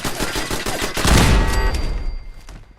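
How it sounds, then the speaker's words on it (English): Grenade blast in Fallout 4 against turrets: rapid crackling gunfire leads into a loud, booming burst with a deep rumble that fades away over the next second. "it's time for a grenade"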